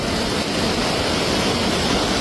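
A steady, broad roar of a rising river rushing over submerged rocks fills the whole stretch, loud and constant with no voices.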